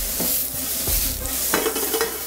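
Broccoli and greens sautéing and being stirred in a pan with a little oil, giving a steady close sizzle broken by scraping stir strokes.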